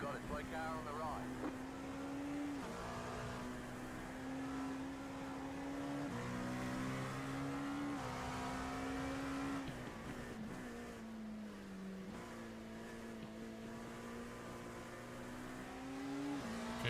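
Race cars in a sim-racing video game at the 6 Hours of Spa, a steady engine drone with shifting pitch as gears change, continuous and moderately loud under a voice speaking.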